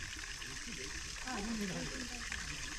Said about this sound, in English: So this subterranean spring underneath here is delivering water through this channel into this first basin